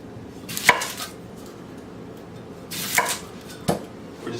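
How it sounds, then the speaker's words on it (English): A knife chops an onion into chunks on a board, three sharp separate chops spaced apart against quiet room noise. "one thing Jen does not like to do is chop onions"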